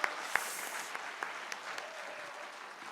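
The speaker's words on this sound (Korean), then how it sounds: "박수 한번 쳐드리십시오" Faint, distant applause from an audience at a Korean political rally, a thin patter of clapping with a few sharper individual claps near the start.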